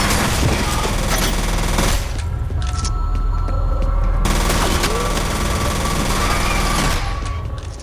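Rapid automatic gunfire and blasts from the shooter video game F.E.A.R., dense and loud throughout, with continuous bursts layered over a deep rumbling background and brief changes in the mix.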